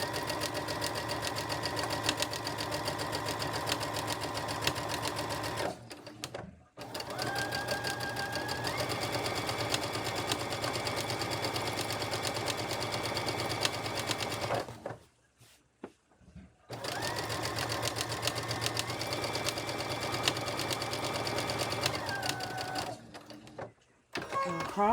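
A sewing machine stitches a buttonhole-style pattern on a vest made from a thrifted scarf, running in three long steady bursts separated by brief pauses, loud and close with no talking.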